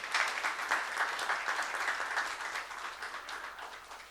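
A church youth congregation applauds at a sermon with a dense, even round of clapping from many hands that holds steady and then fades toward the end.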